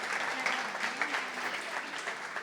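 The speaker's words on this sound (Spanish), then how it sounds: "Aplausos." Audience applause at a talk, steady dense clapping from a crowd heard at moderate distance, fairly quiet and continuous throughout.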